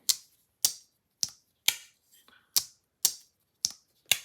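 A Jack Wolf Venom folding knife snaps open and shut in a regular run of eight sharp, crisp clicks about half a second apart, close and isolated, with a faint soft rattle midway.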